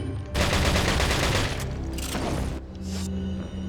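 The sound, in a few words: shotgun fire in Resident Evil 4 video game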